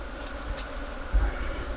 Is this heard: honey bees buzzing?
yes